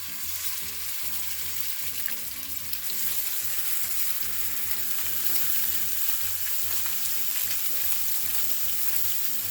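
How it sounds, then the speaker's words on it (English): Salmon searing in avocado oil in a hot skillet, a steady close sizzle and crackle that holds at an even level throughout. "we are going to sear some fish"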